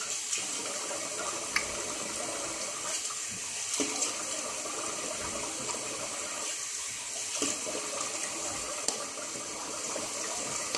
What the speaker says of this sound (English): Let's rinse off the alum.